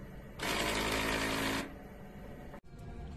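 An eco solvent printer running a head cleaning cycle: a steady loud mechanical whir that starts, holds for about a second, then drops back to a constant background hum, with a brief click near the end.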